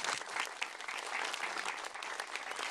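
An audience at a classroom inauguration in Chipiacul applauds to welcome the governor, dense steady clapping throughout.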